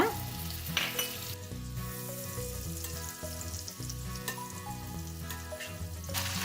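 Hash browns fry in hot butter and oil, giving a steady, close sizzle that runs the whole time over a sustained tonal background, with no talking.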